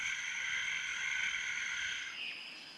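Costa Rican poison dart tree frogs calling in a steady, overlapping chorus of continuous trilling croaks, evenly loud throughout and fading slightly at the end, with no voices.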